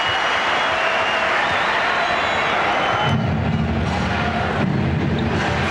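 At the 1993 NBA Finals between the Phoenix Suns and Chicago Bulls, a packed basketball arena crowd roars steadily at Horace Grant as he leaves, a loud sustained wash of cheering and jeering with no pauses.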